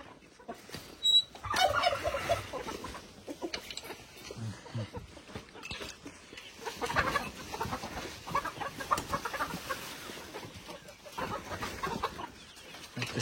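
Turkeys gobble in a village farmyard among hens, with several loud, close bursts of gobbling and clucking repeating over the stretch and a voice speaking quietly between them.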